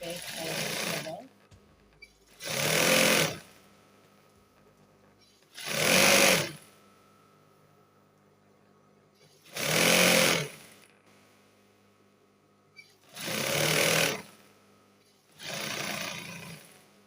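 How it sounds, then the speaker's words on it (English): A sewing machine runs a straight stitch on a flare dress sleeve in bursts, each a loud, close, steady whir lasting about a second, separated by quiet pauses and repeating six times. "run a straight stitch up here to give you that frill effect I was talking about"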